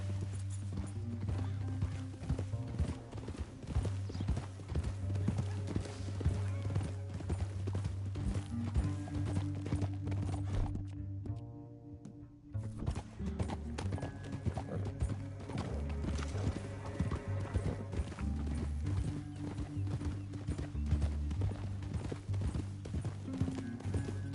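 In a PS4 video game, horses gallop with a steady, rapid clip-clop of hooves that runs almost the whole time over a busy music and effects bed. A short drop-out falls near the middle.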